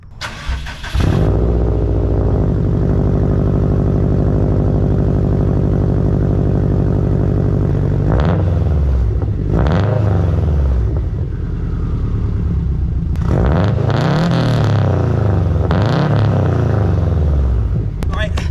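A Subaru STI hatchback engine with a new MA Performance exhaust idles with a deep, steady rumble close by for the whole stretch, and a few revs swell and fall later on while a voice talks intermittently over it.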